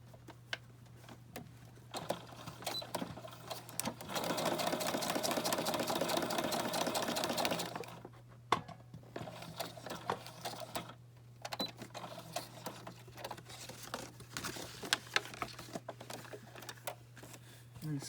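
A sewing machine stitches the side tuck of a handmade paper accordion journal, a steady mechanical whirr running in bursts with short pauses between runs, close and moderately loud, with faint background hum.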